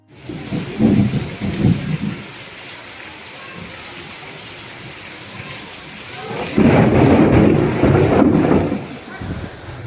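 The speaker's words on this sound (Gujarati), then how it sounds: "જો વરસાદની થઈ ગઈ ચાલુ." Heavy monsoon rain in Gujarat with thunder: a steady loud downpour, broken by a rolling thunder rumble early on and a longer, stronger roll of thunder later.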